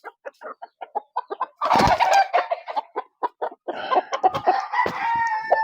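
A ten-month-old gamecock stag clucks in a run of short, close, loud calls, then breaks into a longer crowing burst and keeps calling in busy clucks and cries, with no talk.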